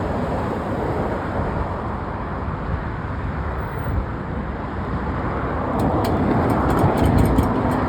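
Heavy traffic at the large intersection of Imperial Highway and La Cienega Boulevard, a loud steady roar of cars passing and idling, swelling louder near the end as more vehicles move through.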